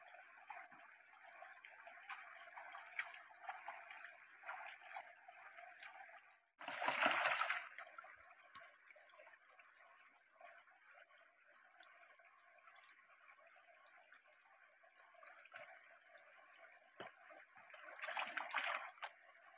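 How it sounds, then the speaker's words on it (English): Water sloshes in a sluice pan while panning for gold, a soft continuous swirl with a louder splash midway and another surge near the end, faint and close. "we'll pan it off and see if there's anything back in the pan"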